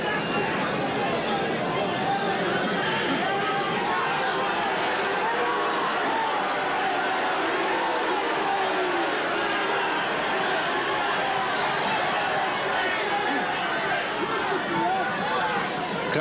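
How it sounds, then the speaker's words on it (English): A rugby league crowd at Hull KR versus Bradford Northern in 1982 roars in an unbroken, dense wash of agitated noise, loud and steady from start to finish with no clear break. "Crowd there getting rather incensed"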